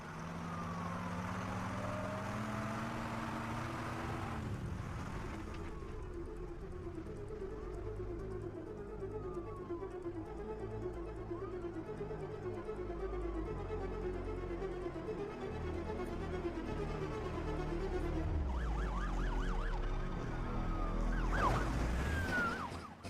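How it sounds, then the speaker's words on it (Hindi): A police car siren wails and swoops as the vehicle approaches, rising over a steady low rumble of traffic and engine noise, growing louder toward the end with no talking. "पुलिस की गाड़ी आ रही है, जल्दी।"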